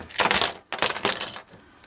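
Metal keys for a Yukon and other trucks jangle in two short bursts close by, with a quieter rattle trailing off at the end.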